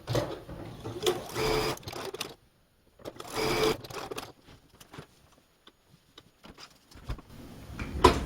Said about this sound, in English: Now I do have two more little segments to sew onto the tree base, the tree skirt, I guess.